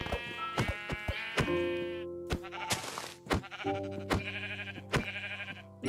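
A Minecraft sheep bleats several times in quick succession, loud and close, with tonal game sounds and sharp clicks between the calls.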